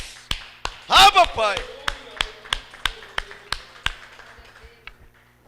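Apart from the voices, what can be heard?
congregation clapping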